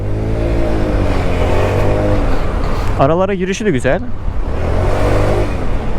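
Honda SH125i scooter engine humming steadily while riding through traffic, with a rider talking over it throughout and a brief pitch-varying rev or passing vehicle in the middle.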